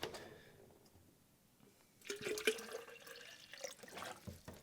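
Water pours into an Air Up drinking bottle, a faint trickle that swells into a louder splashing gurgle partway through, heard close up with no one speaking.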